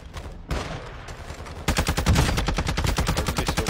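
Automatic gunfire in Call of Duty Warzone 2.0: a few scattered shots at first, then a loud, sustained rapid-fire burst of close, repeated cracks that runs to the end.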